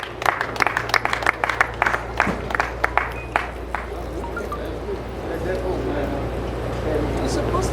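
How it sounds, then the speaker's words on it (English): An audience at a chairperson's investiture gives a round of applause, scattered and close at first, then fading after a few seconds into a murmuring room with voices. "Please a big round of applause to her."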